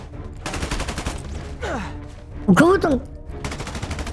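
Rapid bursts of gunfire crackle through a Spider-Man video game fight, coming in clusters of quick shots with a voice talking over part of it.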